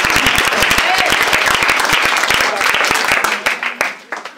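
Church congregation applauding and cheering in praise, dense steady clapping with shouts that thins out into scattered claps near the end.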